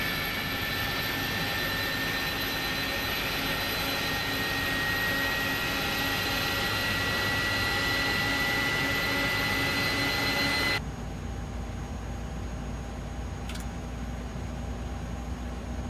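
Jet engines on an iniBuilds A300 freighter spooling up during start in Microsoft Flight Simulator 2024, a steady loud whine and roar with high tonal lines that cuts to a quieter cabin-muffled hum partway through.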